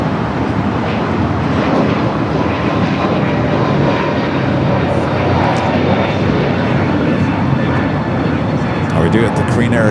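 An airliner flies low near LAX airport, its jet engines producing a loud, steady roar that fills the whole stretch without break.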